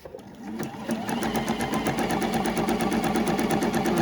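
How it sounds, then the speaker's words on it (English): A sewing machine zigzag-stitches appliqué onto a quilt block, running in a fast, steady mechanical rhythm of evenly spaced needle clicks that stays close and loud throughout. "I'm going to continue on with my zigzag stitch all the way around the outside of the orange peel to lay it down"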